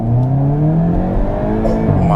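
2023 Hyundai Kona N high-performance crossover accelerating in overboost mode: a loud, close exhaust roar climbs steadily in pitch through the revs, with a few light pops near the end.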